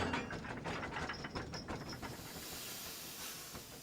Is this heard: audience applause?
no